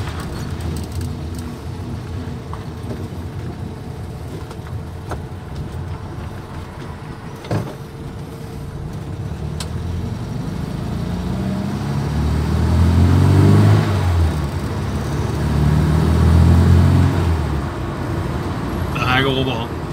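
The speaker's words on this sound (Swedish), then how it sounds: "Då åker vi en sväng." A car drives off after a gate is opened; the engine is said to burn a lot of oil. A mid-pitched engine rumbles steadily and swells as it pulls away, with talk over it.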